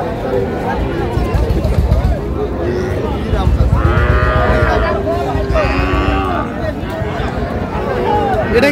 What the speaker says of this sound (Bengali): ওটা ষাঁড় বাচ্চা, এটা বকনা